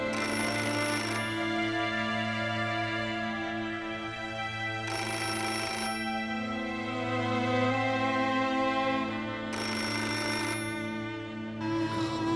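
A telephone rings indoors with a repeating electronic tone, loud and steady, in bursts that recur every few seconds with no one talking.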